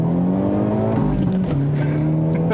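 Hyundai Elantra N sport sedan with an 8-speed dual-clutch transmission making a hard launch, its engine droning loud and steady with a rising rev tone, close up from inside the cabin.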